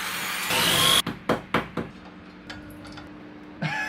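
A power drill drives screws into a wall for a TV mount: a whirring burst, then several short stuttering pulses as the screw seats, and a final quick whir, all close.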